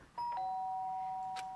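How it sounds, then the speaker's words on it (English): A Danganronpa video game doorbell rings once, a bright two-tone chime that sustains clearly and then fades, standing alone with no talk over it. "The sharp sound of a doorbell pierced my sleepy haze"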